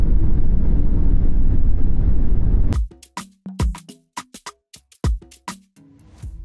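A Porsche Taycan GTS electric car accelerates in sport mode with a deep, heavy synthetic hum for about three seconds. The hum then stops abruptly and gives way to scattered sharp clicks and knocks.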